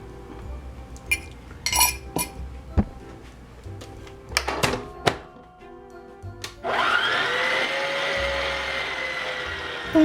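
Electric stand mixer kneading Swedish tea ring bread dough starts up after scattered clinks of utensils and bowls, then runs as a steady close motor whir.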